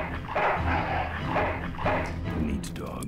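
Dog barks from the video game Full Throttle Remastered come in a few loud, close bursts over a steady game soundtrack with voice-like sounds mixed in.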